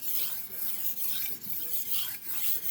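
A metal blade is stroked back and forth across a sharpening stone in a steady, even rasp, about six close, moderately loud strokes with brief dips between them and no voices.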